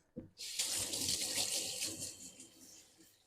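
Kitchen tap running water to rinse off a pan, a close, steady rush that starts abruptly after a small clunk and slowly fades as the pan is turned under the stream.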